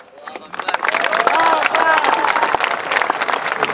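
An audience claps together at an Indonesian religious talk, a dense burst of applause that builds quickly and holds steady, with crowd murmur and voices mixed in.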